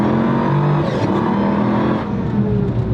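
A hypercar engine drones while driving, a loud steady mechanical tone with a few shifts in pitch, heard close from inside the car without talk.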